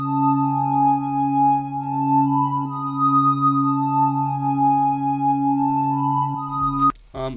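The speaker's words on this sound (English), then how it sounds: "This is the bass gutter preset from the plug serum bank." A dark, sustained synth melody layered over a Serum 'bass gutter' preset for a trap sample, with steady low bass tones and held upper harmonics that cut off abruptly near the end.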